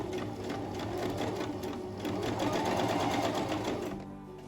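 A sewing machine runs steadily, stitching a shoulder seam on a chapan coat, its rapid mechanical hum and needle chatter holding close and even throughout with no talk.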